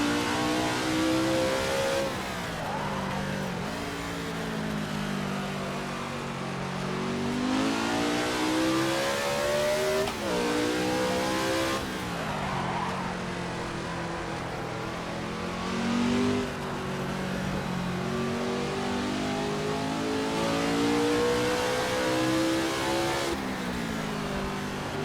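A 1967 Grand Prix race car in a driving game at the South African Grand Prix revs and shifts through its gears, a loud, close engine whose pitch repeatedly climbs and drops as it accelerates and changes gear.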